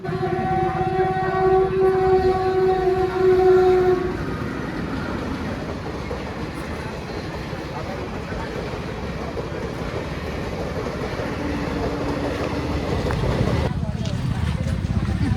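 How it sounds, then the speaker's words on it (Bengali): A long train rolls past a railway level crossing with a continuous loud rumble and clatter, tonal horn-like notes sounding early on, while people talk nearby. "পড়েইছে ট্রেন যাচ্ছে তো যাচ্ছেই"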